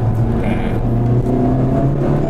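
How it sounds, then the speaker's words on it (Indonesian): A Honda Civic Type R FK8 engine drones and shifts down, a loud close low rumble with a steady tonal hum and a brief rise, with people talking over it. "kalau kita ngomongin suara mobil ini kita agak downshift ya"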